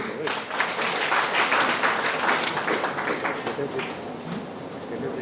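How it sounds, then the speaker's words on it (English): Steady clapping from an audience fills the clip, a dense patter of many hands at moderate volume that gradually eases off. "A big round of applause, please."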